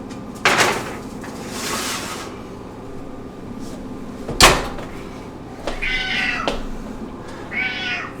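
A cat meows loudly several times in a home kitchen, sharp cries separated by pauses, mixed with a cupboard or door knock and a faint kitchen background hum.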